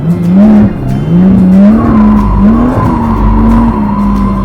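A 350-horsepower Lotus Exige S on the Inje circuit, driven hard in race mode with traction control off, roars steadily close by as its engine pitch rises and falls, while a high tire squeal runs through much of the slide.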